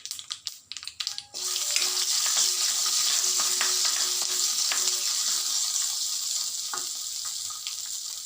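Peanuts tipped into a hot pan of oil begin to fry, a few sharp clatters followed by a sudden, steady sizzle that carries on close and unbroken, with faint stirring taps and no voices.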